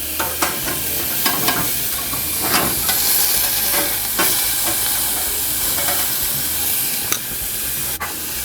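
Meat patties searing in a hot pan make a steady, loud sizzle close by that holds throughout, with occasional light scrapes and clicks on top.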